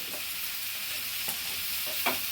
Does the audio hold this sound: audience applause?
no